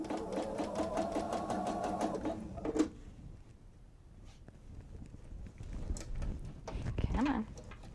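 A sewing machine runs a quarter-inch seam on a fabric two-bottle wine tote. Its steady, close mechanical hum lasts about three seconds, then stops, followed by quiet handling noises.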